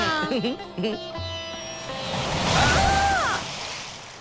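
Ocean waves wash onto the Mumbai seashore in a rising broad surge that peaks and fades. Cartoon character voices and chirpy vocal sounds come first and then overlap the water.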